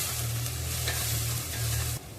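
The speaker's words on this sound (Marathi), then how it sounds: "हे सर्व मसाले यामध्ये परतून घ्यायचे आहेत" Spices sautéing in a pan over low heat for a spicy tawa egg dish, a close, steady sizzle with soft stirring scrapes, brief and with no talking.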